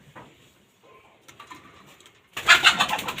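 A red Sirazi pigeon gives soft, low cooing that is quiet at first. A louder, rough burst of noise follows near the end.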